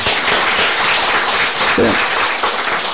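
Congregational applause fills a church thanksgiving service for founding a branch church, a dense continuous wash of many hands clapping close and loud, with a brief spoken word briefly over it.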